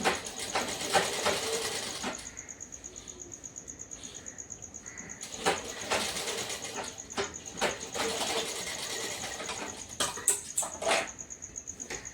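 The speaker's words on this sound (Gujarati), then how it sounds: "આ રીતે તમારે સિલાઈ મારવાની છે" A sewing machine stitches a katori panel on a blouse, running in steady mechanical bursts with short pauses between runs, close and moderately loud with a faint constant whine in the background.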